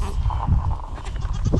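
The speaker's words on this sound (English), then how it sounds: "But Sophie's our new goat." A newly acquired goat bleats on a small farm, a few wavering cries up close over low background rumble and a faint voice.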